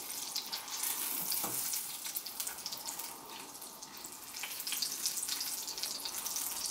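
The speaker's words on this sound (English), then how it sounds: "Four fat Babybels sizzling in the pan" Four Babybel cheeses fry in hot oil in a pan, giving a dense, bright, continuous sizzle with crackling bursts, close and steady throughout, with no talk.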